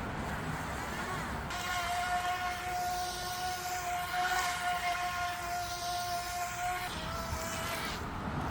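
A small pool cleaning robot's motor runs during a test spin, a steady whirring hum with a tonal whine in the middle section, close and moderately quiet.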